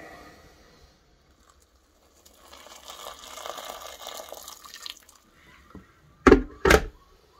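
Hot water runs from a tap in a short, soft splashing stream for a few seconds, then stops and is followed by two sharp, loud knocks close by.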